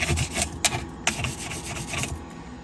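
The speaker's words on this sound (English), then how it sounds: "You can get your little handy tool, little scrubber to get in the hard to reach places here." A small scrubber brushes back and forth inside a composting toilet, quick rasping strokes with sharp little clacks, close and fairly loud, no talk.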